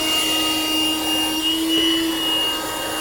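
A Black & Decker handheld car vacuum cleaner runs steadily with its nozzle removed, a loud, continuous close-up whine with a constant motor tone and no talking over it.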